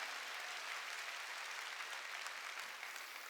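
A church congregation applauding to give glory to God during a sermon, a soft, distant, continuous wash of many hands clapping at even level.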